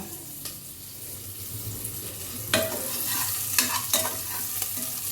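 Onion rice with salt and chilli flakes stir-fried in a pan, a soft continuous sizzle punctuated by a few sharp scraping stirs.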